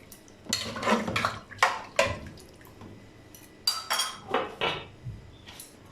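A utensil scrapes and clinks against a cooking pot of mutton white karahi in a series of short strokes, with wet sloshing of added water between them and no voices.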